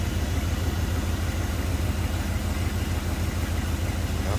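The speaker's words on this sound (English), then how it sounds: "smooth running V8. Listen to that." A 1959 Buick LeSabre V8 engine idles steadily with a deep, even, rumbling pulse, close and loud, running smoothly with no other sounds.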